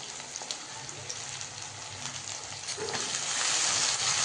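Schezwan fried rice with capsicum, cabbage and green peas stir-fried in oil in a pan, a steady soft sizzle and crackle that swells louder toward the end, with faint scraping underneath.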